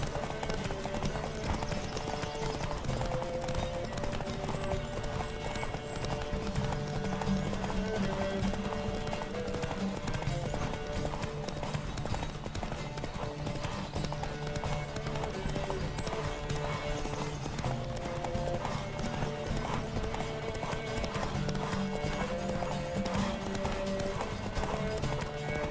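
Continuous rhythmic clip-clop of horse hooves galloping during a horse race in The Witcher III: Wild Hunt, steady and prominent, with a faint whinny and background music underneath.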